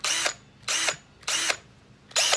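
A Tacklife cordless drill whirs in four short, loud bursts of equal length, each roughly a third of a second, with brief quiet gaps between them and no talk.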